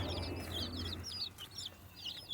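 Hens and chicks on a farm clucking and chirping, with repeated short high peeps from a brood of about thirty chicks over a low steady background hum.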